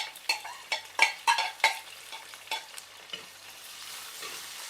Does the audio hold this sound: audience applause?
no